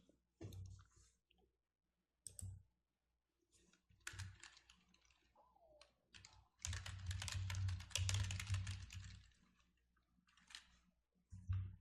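Computer mouse clicks on a PC while opening the Drive page in a cloud storage service, scattered crisp close clicks alongside a burst of busier clicking and keyboard tapping, no voices.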